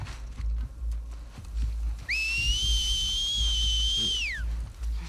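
An enemy's long, sustained two-tone whistle signal in The Last of Us Part II, loud and clear for about two seconds before sliding down, over a low rumbling game ambience and footsteps.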